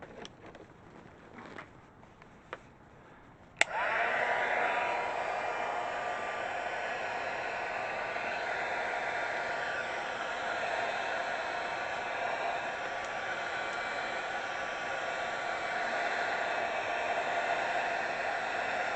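A hair dryer switches on with a sharp click after a few seconds of quiet handling and then blows a steady, even roar close by while drying an acrylic gel print. The roar continues without a break to the end.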